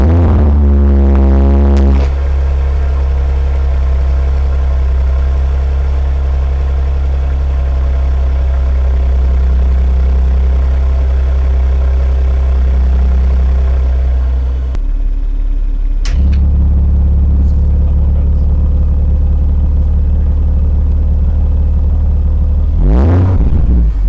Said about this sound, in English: So the engine sound, when it's on dynamic, that will open up those valves,